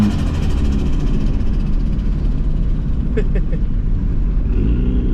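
A budget Nissan turbo car's engine drones and revs while driving, with a sharp rise as the gearbox downshifts; the sound is loud and close throughout, with brief voice sounds near the end.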